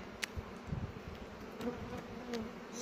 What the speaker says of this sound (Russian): Вот пчелки выходят.